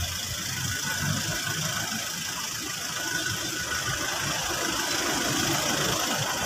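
A car engine idles steadily nearby, a constant low rumble with even broadband hiss and no break or rev throughout.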